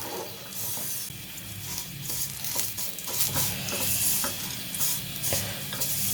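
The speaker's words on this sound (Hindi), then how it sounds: "ये देखिए सेवियाँ हम रोस्ट करेंगे" Vermicelli roasts in desi ghee in a pan for sheer khurma, giving a close, continuous soft sizzle. A spoon scrapes and stirs against the pan in an irregular rhythm, with no talking.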